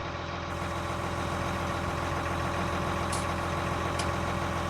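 Steady low rumble of a heavy truck engine idling in American Truck Simulator, a constant even drone with no change in pitch or loudness and no talking.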